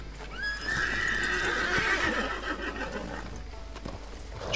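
A horse in Red Dead Redemption lets out a loud, drawn-out whinny that rises and then trails off, with some faint hoof and background noise afterward.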